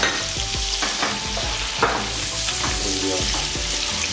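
Sliced calabresa sausage and onion sizzle steadily in a hot pan for a Brazilian feijão tropeiro, with repeated scraping strokes of a utensil stirring through the fry, loud and close, no talking.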